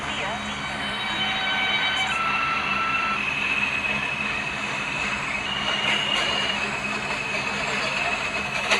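Clockwise A train running on the inner loop: a steady, continuous rumble of rail travel with faint high whine tones drifting above it, heard from inside the carriage with no talk.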